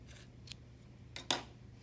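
Scissors snip thread from a needle while an origami ornament is finished, two or three faint, crisp close snips with the last one sharpest, in a quiet room.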